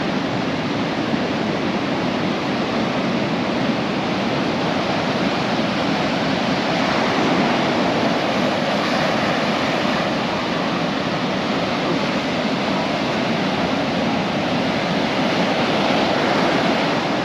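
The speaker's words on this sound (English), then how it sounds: "But the sea is quite spectacular at the moment" Sea waves break steadily on the shore at Paguera, Mallorca, with rough water after a blow. The surf makes a loud, continuous roar of crashing and hissing that holds without pause, with no voices.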